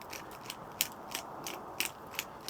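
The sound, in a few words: grinding pepper with a pepper grinder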